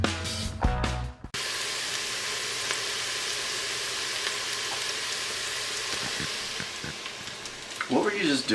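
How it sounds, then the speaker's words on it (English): Curried sweet potato and apple soup sizzles steadily in a hot pan, a continuous crackling hiss heard close up after a brief louder clatter at the start, with faint voices near the end. "I wanted okay. to get the sizzling"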